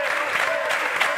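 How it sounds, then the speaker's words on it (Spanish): Audience applause at a live comedy show, dense steady clapping from a crowd filling the whole brief moment with no voices on top. "¡Un aplauso para Edu!"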